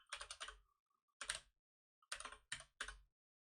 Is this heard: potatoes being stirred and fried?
no